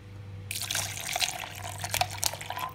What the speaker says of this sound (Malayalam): ഇനി നമുക്ക് കുറച്ച് വെള്ളവും കൂടെ ഒഴിച്ചെടുക്കാം